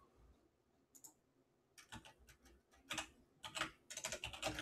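Computer keyboard typing a terminal command, quiet irregular bursts of key clicks that grow denser and louder toward the end, with no talking.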